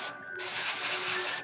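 An airbrush sprays red paint onto a Games Workshop Warhammer 40K Magnus the Red miniature, a steady close hiss that starts after a brief pause and runs on evenly to the end.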